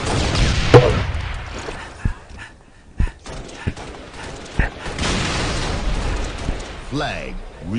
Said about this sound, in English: I end up shooting some poor rockets right here.